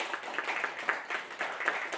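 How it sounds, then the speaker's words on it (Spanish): A live audience claps for a lecturer at a Hispanist talk series in India, a quick burst of many hands with sharp, busy slaps over about two seconds, moderately close and without any voices. "Voy a pedir un fuerte aplauso para nuestra conferenciante"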